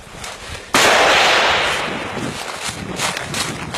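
A single sharp, loud gunshot cracks out on a road, fired at a driver's side window, followed by a decaying echo and background noise.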